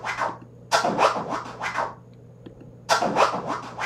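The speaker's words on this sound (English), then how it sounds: "you could just bring in the sounds, the scratches that you want, and then you can loop them and arrange them however you want, or you can trigger them live" Turntable-style scratch samples triggered from the PMOS 100 sampler app, in short choppy bursts. A cluster of rapid scratches is followed by a pause and then another loud flurry, with no talking.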